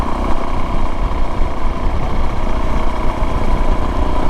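A Suzuki DRZ motorcycle engine with an FMF PowerBomb header exhaust runs steadily close by, a loud, continuous raspy drone with a dense low rumble and no talking over it.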